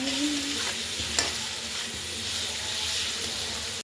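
Tomato paste with ground cashew and melon-seed paste sizzles in a frying pan of oil and sugar while chicken cooks, a steady broadband fry with a sharp clatter near the middle and a brief stirring scrape, no voices.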